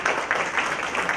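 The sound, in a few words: audience applause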